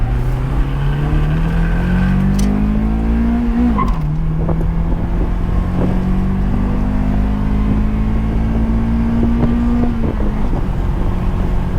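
Engine of a 1996 Acura Integra GS-R with VTEC, loud and close, with the pitch climbing steadily through two long pulls, dropping sharply at a gear change around the midpoint, then rising again before easing off.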